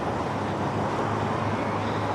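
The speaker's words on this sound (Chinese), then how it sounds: "我在车流之中啊" Steady, dense road-traffic roar surrounds the listener in city streets near Xi'an, passing the long city wall at Anding Gate, with a continuous low rumble of cars and heavier vehicles and no clear breaks.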